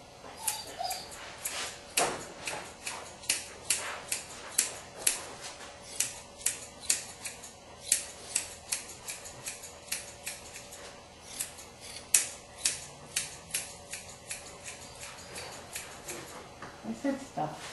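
Curved grooming scissors snip a water spaniel's coat in quick, rhythmic, close-up cuts throughout, with a dog faintly whimpering and a person talking in the background.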